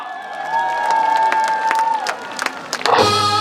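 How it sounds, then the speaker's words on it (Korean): An audience claps along at a live outdoor festival concert in Bonghwa, with crowd noise and cheering rising over a sustained singing or instrumental tone. The clapping swells toward the end. "자 다같이 박수"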